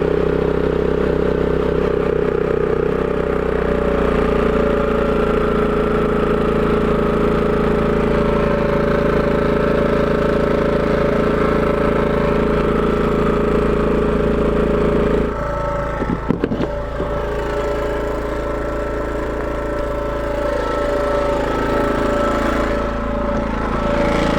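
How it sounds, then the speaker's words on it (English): A 5000W inverter generator runs loud and close under load, giving a steady droning engine hum with a mechanical rattle. Its tone shifts briefly partway through, then settles back to a constant drone. "as the Keurig kicked up, it did kick up the generator too"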